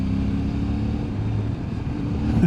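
A CFMoto 450 MT motorcycle rides along a road in Brecon Beacons National Park, Wales, its engine a steady, fairly loud low rumble with a slight rise in pitch near the end.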